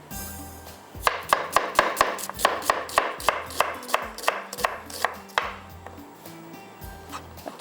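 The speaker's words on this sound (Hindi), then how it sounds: "अच्छे से इसको हम चॉप कर लेंगे" A knife chops onion on a cutting board in a quick, regular series of crisp close knocks, about fifteen strokes slowing and thinning out toward the end, heard alone without talk.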